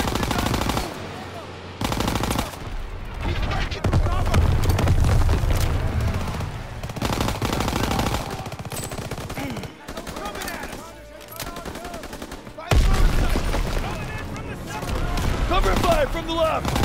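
Bursts of machine gun and rifle fire in a Call of Duty WWII battle, loud and close, rattling in long stretches with short gaps, mixed with shouted voices and explosions.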